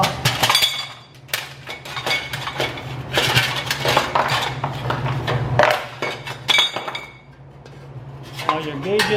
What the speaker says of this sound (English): Okay, now we got to take the clamps off.